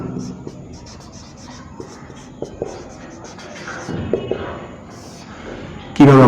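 Pen scratching across paper as a sentence structure is handwritten during a Bengali grammar lesson on narration, a soft continuous scribble with small taps, under faint background voices and a louder bump at the end.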